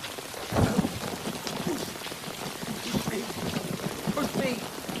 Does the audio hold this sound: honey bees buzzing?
no